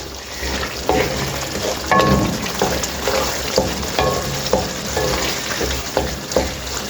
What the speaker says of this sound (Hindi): अब हम इसके अंदर कर रहे हैं बाकी की सब्जियां मिक्स